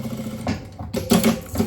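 A sewing machine with a presser foot stitches around fabric in short mechanical bursts, its motor buzzing close up with brief pauses between runs.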